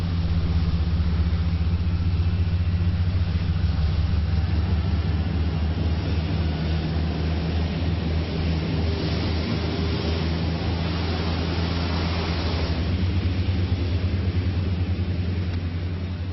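Airbus A380 jet engines running during ground testing, a steady loud low roar and rumble that holds evenly throughout, without voices.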